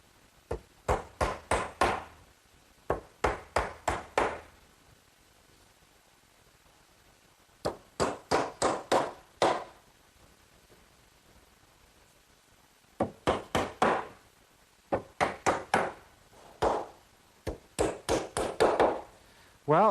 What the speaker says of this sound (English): each of the pails is fastened in place with some 6-penny galvanized common nails